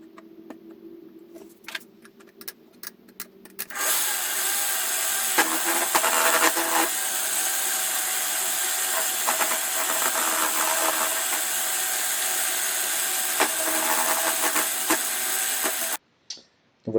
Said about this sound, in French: je vais utiliser une perceuse à colonne premier prix et essayer de retirer un petit peu de matière